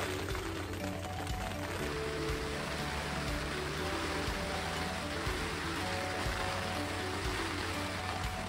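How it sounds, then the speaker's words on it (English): Steady, heavy rainfall from Tropical Storm Nicole hisses continuously at a campsite, a dense wash of drops with a low rumble underneath and no pauses. "Well, the rain is here."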